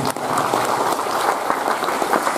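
An audience at a Democratic Party regional congress in Papua Pegunungan applauds their party chairman, steady dense clapping filling the hall for a couple of seconds.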